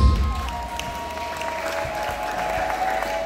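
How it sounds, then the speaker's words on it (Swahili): A church congregation applauds steadily, a dense wash of clapping under sustained organ or keyboard tones, fairly loud and continuous throughout. "makofi kwa Bwana Yesu."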